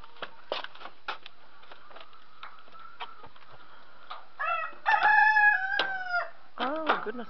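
Backyard chickens and a rooster on a foggy homestead cluck in short bursts, then a rooster crows loudly up close, with more squawking and clucking after.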